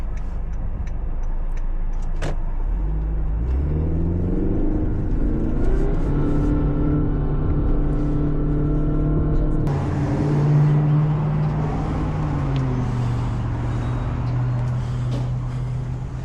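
A car in road traffic waits to turn left, engine idling and rumbling with passing vehicles swelling nearby and a deeper revving shift partway through, no talk.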